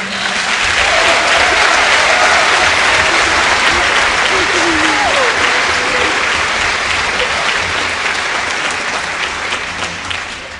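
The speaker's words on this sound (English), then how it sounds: "let's give our 6th grade a round of applause" Audience at a school spring concert gives the 6th grade band a loud, dense round of applause that holds steady and then slowly tapers, with faint voices and cheers mixed in.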